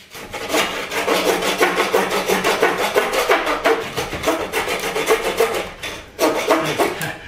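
Steady back-and-forth rasping of a hand saw cutting through a hardwood board, fairly close and loud, with a brief pause near the end before the strokes resume.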